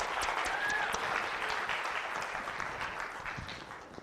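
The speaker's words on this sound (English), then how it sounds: "Everybody, round of applause here." Audience applause at the 2026 Regents' Cup Storytellers Final, a steady dense wash of clapping that holds at even loudness for about four seconds, alone with no voices.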